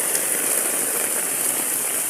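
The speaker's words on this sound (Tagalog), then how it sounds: "Malakas ng ulan." Heavy rain pours steadily onto surfaces in Bagumbong, Caloocan, a dense, unbroken hiss that stays loud and even from start to finish with no voices.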